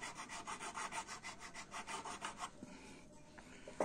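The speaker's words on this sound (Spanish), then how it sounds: "aquí se me había olvidado lijar esta piececita" A small wooden model ship piece for the Cutty Sark kit is sanded by hand in quick, steady back-and-forth rasping strokes, close and fairly quiet, stopping after about two and a half seconds before a few faint handling sounds.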